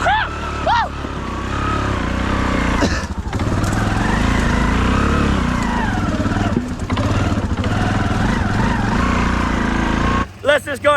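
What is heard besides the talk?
Honda Fourtrax 300 6x6 ATV engine climbing a hill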